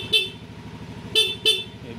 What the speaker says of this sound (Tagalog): May busina naman siya.